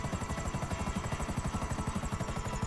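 A helicopter in the video game GTA 5 flies close by, its rotor thudding in a steady, fast pulse under a constant engine whine, loud and continuous throughout.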